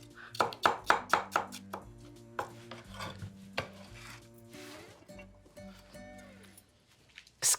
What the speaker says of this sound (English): And so now we'll cut it very thin.